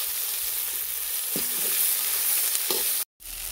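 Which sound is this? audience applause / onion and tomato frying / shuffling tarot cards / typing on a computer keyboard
onion and tomato frying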